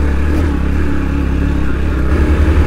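Motorcycle carrying two riders over a rough, uneven road, engine chugging at a steady low rumble with rattling clatter throughout, close and loud for a few seconds.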